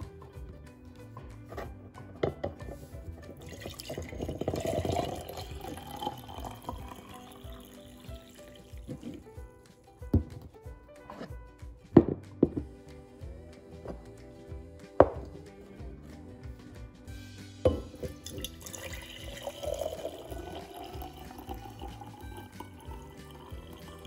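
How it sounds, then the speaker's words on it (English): Hot water is poured into a glass mason jar, with a filling gurgle rising in pitch, a few sharp knocks and clinks in between, then another pour later on. "So just fill the mason jar with the water."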